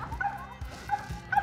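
A small Feist squirrel dog barks while treeing squirrels, letting out three or four sharp yips and whimpering barks at close range, with no talk.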